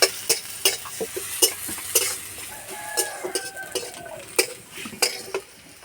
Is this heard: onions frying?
yes